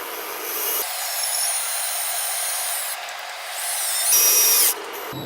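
A power drill drives screws into the wooden top of a heavy-duty floating shelf, a steady close-up whine with short bursts and pitch shifts as the screw seats, ending abruptly.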